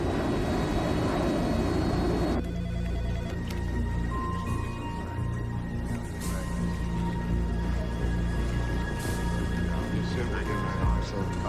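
A jet airliner climbs in flight, a broad, steady engine roar that holds loud and even throughout, with tonal hums and a voice talking over it.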